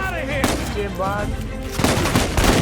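Automatic machine gun fire in the Uncharted 4 video game, with bursts of rapid shots mixed with game music and effects, loud and continuous across the moment.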